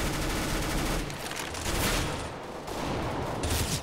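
Gunfire in Counter-Strike: Global Offensive, a dense run of shots and bursts filling the clip at moderate loudness with no talking.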